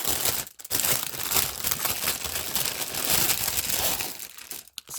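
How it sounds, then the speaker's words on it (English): A plastic bag crinkles loudly and continuously as a cross stitch kit is pulled out of it, with dense crackling close up and a couple of brief pauses. "Excuse the crinkling."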